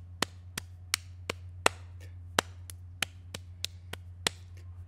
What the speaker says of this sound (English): So we bring a hand down on the Hambone, up, down, and it's got this little rhythm to it.